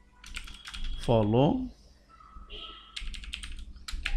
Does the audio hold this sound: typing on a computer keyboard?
yes